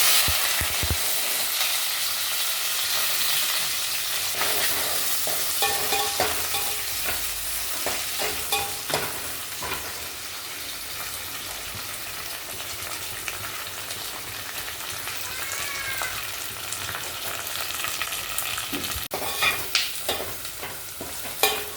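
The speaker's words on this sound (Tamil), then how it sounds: "இப்போ தாளிக்கிறதுக்கு வெங்காயம் கருவேப்பிலை போட்டுக்கலாம்." Oil sizzles and crackles steadily throughout as onions and curry leaves fry, with scattered scraping and stirring clatter from a utensil against the pan.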